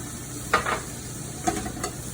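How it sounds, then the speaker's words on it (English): Chopped white onion and a garlic clove frying in a pan of steak juices, with a continuous low sizzle and a few scattered stirring scrapes and clinks, no speech. "We're gonna just cook that till those onions are clear"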